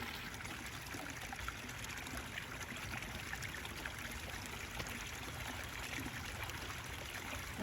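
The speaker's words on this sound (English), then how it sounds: "the waterfall is looking good" Water trickles and splashes continuously down a backyard pond waterfall, a faint, steady babbling wash with no talking.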